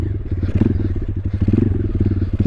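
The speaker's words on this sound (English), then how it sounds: "Pop the clutch, a little gas." A pit bike engine revs hard as the clutch is popped for a wheelie, a close, loud, rapid pulsing exhaust clatter that surges and holds, no talk over it.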